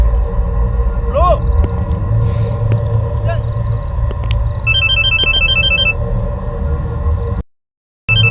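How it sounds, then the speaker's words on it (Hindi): A phone ringback tone purrs in short repeated bursts while someone calls a friend, with voices talking over it and a steady background hum, until the line cuts off abruptly near the end. "दर्श एक काम कर, सुजय को फोन लगा"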